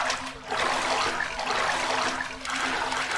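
Continuous sloshing and splashing as a character wades through water in the Inside the Backrooms video game, in rhythmic surges with no one speaking.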